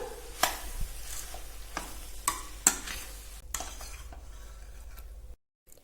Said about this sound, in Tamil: இது எல்லாத்தையும் சேர்த்து கிண்டி எடுத்துடலாம்.